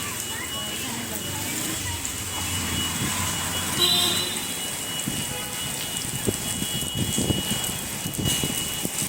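Heavy cyclone rain pours steadily outdoors with gusting wind and shaking trees, a dense continuous hiss close by, while someone talks over it.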